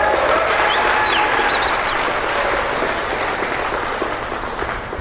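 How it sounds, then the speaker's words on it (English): Sustained audience applause for a string quartet at a live performance, dense and steady throughout, tapering slightly toward the end, with a few faint whistles. "Please keep that applause going for the magnificent quartet today of Miranda,"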